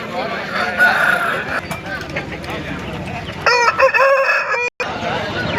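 A rooster crows loudly and close by at a Sunday poultry market in Pileru, its call rising in a clear drawn-out phrase near the end, while someone talks over busy market chatter throughout.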